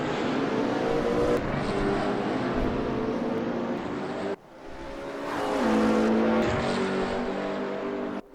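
GT3 race cars, a BMW and a McLaren, roar past on the Zandvoort circuit in a sustained loud engine drone, dipping briefly at mid-point before swelling again as they fight for position.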